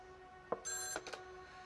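A phone in The Medium gives a short, faint electronic ring, a bright tone burst followed by a couple of quick chirps, alone in a quiet room.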